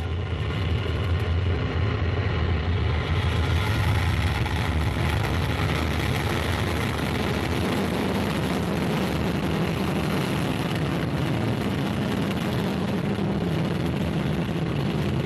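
On a French TV studio set, a staged mock rocket launch, said to have twenty engines lit, produces a broad, steady roar like a heavy engine. It is loud and continuous, with a low rumble that swells slightly partway through.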